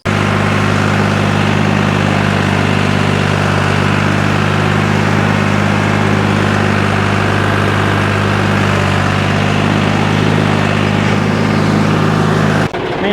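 Tractor engine running steadily close by, a loud continuous low throbbing drone with no break until it stops abruptly near the end.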